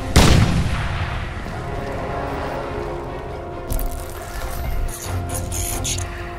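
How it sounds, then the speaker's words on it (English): Crysis 2 combat with a sharp grenade blast at the start, then rolling rumble, scattered gunfire bursts and further impacts from a .50 cal fight, loud and close throughout. "Oh, now they chuck the grenades."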